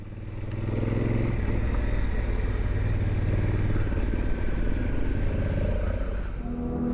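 A Honda Africa Twin DCT motorcycle rumbles off-road up Santiago Peak in California, its engine a steady, loud, close drone with small shifts in pitch as it climbs, no speech over it.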